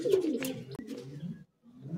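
A Madrasi pigeon at a home loft in Bagnan gives a close, throaty coo that rolls through a couple of low pulses before a brief pause, with no speech.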